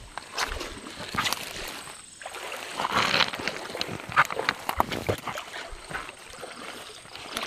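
Water sloshing and splashing as people wade across a slippery river at night, steady irregular splashes close by with a few sharper surges, faint voices now and then underneath.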